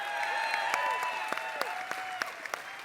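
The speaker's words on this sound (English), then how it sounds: "can we give these two gamers a round of applause one more time?" An esports event audience at IPL 3 applauds steadily, a dense wash of clapping with a few louder individual claps popping out and some faint whistles over it.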